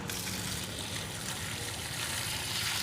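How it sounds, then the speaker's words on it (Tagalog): Water is poured steadily into a goldfish breeding container, a continuous close splashing rush with no break. "Ibubuhos na natin to."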